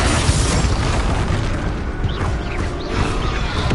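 Explosive spells Confringo and Bombarda blasting in Hogwarts Legacy gameplay: loud, continuous booming detonations and rumbling bursts with swooping whooshes, dense and close, with no voices.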